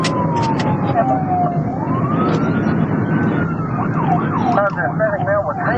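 An ambulance siren wails during a high-speed police chase, a loud rising and falling tone that shifts into a fast yelp, with traffic noise and radio chatter underneath.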